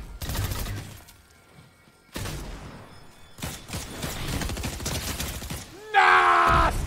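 Rapid automatic gunfire from a Fortnite match crackles in loud bursts separated by brief gaps, followed by a bright electronic game effect at the end; no one talks during it.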